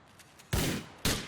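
Gunfire in Grand Theft Auto IV: two loud, close gunshots about half a second apart, each ringing out briefly, after a few faint distant pops.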